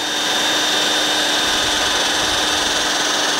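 A power tool polishes a BMW alloy wheel with a loud, steady high whine and grinding hiss, close and unbroken, with no talk.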